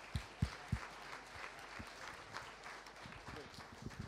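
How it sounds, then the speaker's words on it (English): Faint, scattered clapping from an audience at a startup pitch competition, a few sharp claps standing out over a low murmur of crowd noise. "So applause for TechCrunch."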